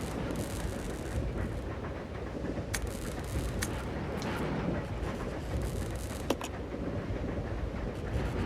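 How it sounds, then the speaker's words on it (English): A runaway train in the Resident Evil Zero video game gives off a continuous low mechanical rumble with rattling clanks and a few sharp metallic clicks scattered through it, steady and moderately quiet, with no talking. "Train will either derail or crash. I gotta stop this thing."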